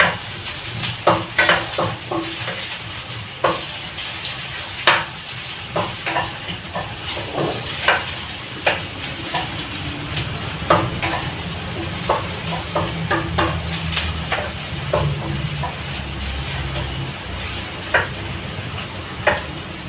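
Garlic and onion sautéing in a pan for pansit bihon, a steady hissing sizzle with frequent sharp spatula scrapes and taps, close and fairly loud throughout.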